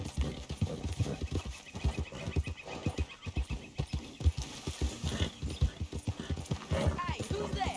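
Horse hooves clip-clop in a steady, close rhythm in the Western video game Red Dead while voices speak over them.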